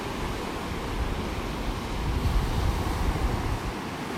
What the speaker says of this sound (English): You're going to hear that wind when I get out here past the trees